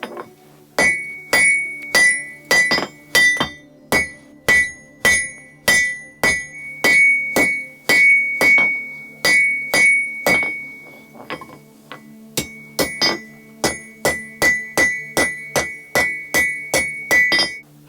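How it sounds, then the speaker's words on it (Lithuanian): A blacksmith's hammer rings on hot metal while forging a pair of tongs: sharp, bright, regular blows close by, with a short pause near the middle before the steady strikes resume. "Traukiu lauk, dabar kalu tą vietą, kuri pereis į galą"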